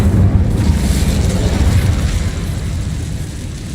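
A fiery Incendio spell erupts in Hogwarts Legacy, a loud, rumbling, booming blast that roars steadily, close and full, then eases slightly toward the end.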